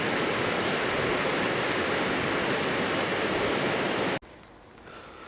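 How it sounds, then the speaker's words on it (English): A powerful rain-swollen waterfall near Glasgow, Scotland roars in a dense, constant rush, then cuts off abruptly near the end, leaving a quieter background. "This waterfall is roaring right now because of the rain."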